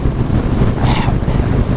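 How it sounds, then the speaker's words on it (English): Wind buffeting a rider on a Harley-Davidson Softail Lowrider with no windshield or fairing, a loud, constant rushing roar close to the microphone. "especially with that wind hitting me. No windshield, no fairing."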